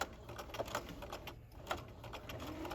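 Sewing machine stitching a double-needle topstitch hem, with a back stitch, produces a fast, even mechanical whir with a soft rhythmic tapping, close and moderately quiet, with no talking.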